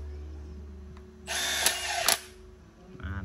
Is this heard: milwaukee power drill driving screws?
yes